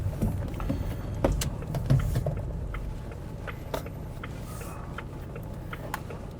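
A 1996 Jaguar with a repaired differential runs quietly at night, a low, even road and drivetrain rumble with faint clicks and ticks and no obvious whine.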